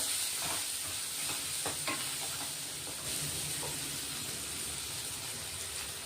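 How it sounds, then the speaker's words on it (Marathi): Bitter gourd pieces fried and stirred in a pan, steaming: a steady, fairly quiet sizzling hiss runs throughout, with occasional soft scraping taps of stirring and no talk. "आधी कारले चांगले परतून घेऊ वाफेवर"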